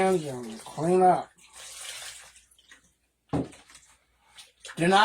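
Water running and splashing as plaster is rinsed off hands, heard in a couple of short bursts between stretches of a person talking.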